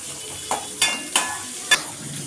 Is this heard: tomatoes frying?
yes